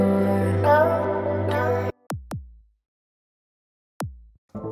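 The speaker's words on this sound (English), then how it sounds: "So just listen to the kick high by itself." Bright, high-tuned kick drum sample from Logic stock instruments, several short punchy hits with quick pitch drops, heard alone after a brief burst of sustained tonal sound.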